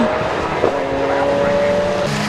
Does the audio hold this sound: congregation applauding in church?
no